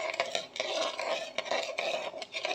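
A spoon scrapes and stirs food frying in a pan, with regular clattering strokes of utensil against metal and a soft sizzle underneath, close up and without talk.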